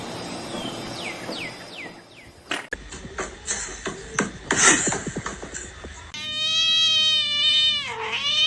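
A cat yowls and caterwauls from on top of a kitchen fridge, its drawn-out, rising and falling cries loud and close, with shuffling and clattering before them.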